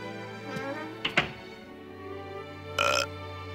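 A cartoon character lets out a couple of short burps, quiet and close, with a longer belch-like blurt near the end, in an animated show with little else around them.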